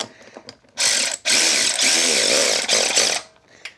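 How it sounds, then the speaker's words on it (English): Rapid ratcheting or power-tool whirring while nylock nuts are tightened on the back of a custom tractor lifting and pushing plate, loud and close in two long bursts with brief pauses between. "I'm using nylock nuts on the back, so I don't got to go crazy tightening them down"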